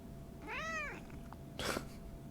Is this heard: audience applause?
no